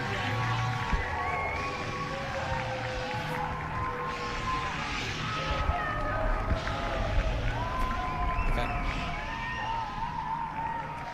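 Broad, continuous hum of a crowd at an American football game in North London, a British league match, with scattered cheers and murmur over a steady background, moderately loud and fairly distant.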